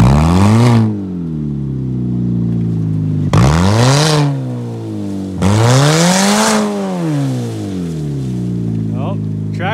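A straight-piped Pontiac revs hard in long rising and falling surges while doing reverse donuts, a tire spinning under the loud, close exhaust roar, with people talking over it.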